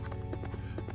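Horse hooves clopping in a steady rhythm in the video game Rogue Legacy, over a low constant hum, fairly faint, with no talking.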